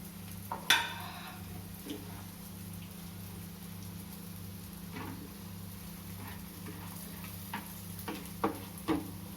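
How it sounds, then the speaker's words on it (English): Soft, rain-like crackling of vegetable cutlets shallow frying in oil in a pan over a constant low hum, with a few sharper pops and taps scattered throughout. "it does not require except a surface frying, that is shallow frying"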